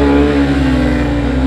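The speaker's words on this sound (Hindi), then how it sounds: "अभी मैं इस बाइक को भगा रहा हूँ" A Honda SP125 motorcycle accelerates hard in a drag race against a Honda CB Shine 125, its engine giving a loud, steady, close-up drone with a sustained tonal whine.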